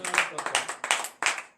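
Congregation at a morning prayer service in Comè, Benin, clapping in acclamation: sharp, rhythmic bursts of many hands striking together in unison, roughly three beats per second, loud and close.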